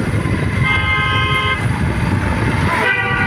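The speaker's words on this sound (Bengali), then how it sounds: "এই জঙ্গলের ভিতরে যেভাবে হর্ন দিয়ে গাড়ি চালাচ্ছে" A vehicle horn sounds in long sustained honks over rumbling engine and road noise, fairly close and loud, as a car drives through a forest.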